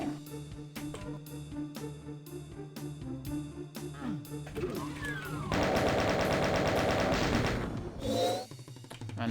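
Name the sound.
gunfire in the video game Doom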